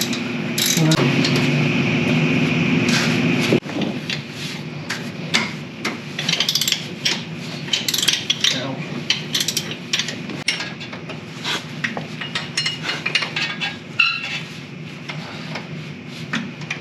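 Ratchet wrench backing 9/16 bolts out of a Jeep Wrangler TJ NP-241 transfer case: a loud steady whir at first, then irregular metallic clicks, knocks and scraping close by, with a voice murmuring occasionally.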